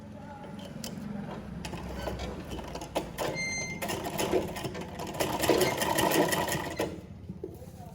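Sewing machine stitching a blouse sleeve seam, running in several steady bursts with a mechanical whir and faint clicks, fairly close, with no talk over it.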